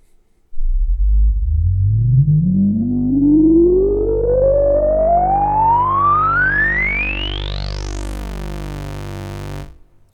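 A resonant, overdriven Manatee synthesizer filter sweeps steadily upward from a deep buzzing tone to a piercing whistle, loud and continuous, then cuts off abruptly.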